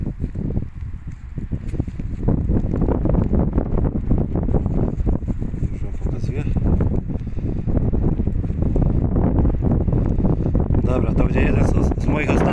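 Strong gusty wind with snow roars across the microphone nonstop in freezing weather, a loud buffeting rumble that stays heavy for the whole stretch, with no clear talking over it.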